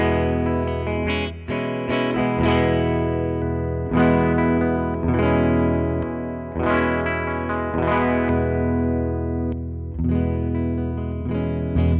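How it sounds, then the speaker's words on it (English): Jazzmaster electric guitar on its dark rhythm circuit, pushed through a fuzz pedal, plays a thick, saturated rhythm part of sustained chords with regular re-attacks, loud and alone with no voices. "That rhythm circuit is quite dark, but it sounds really sick with fuzz"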